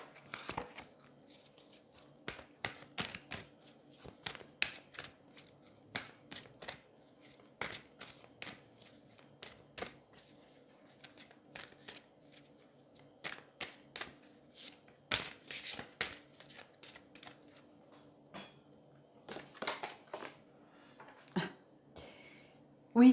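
A deck of angel oracle cards is shuffled by hand, giving crisp, papery riffling bursts and slaps in irregular clusters, close and fairly quiet against a faint background hum, with no voices.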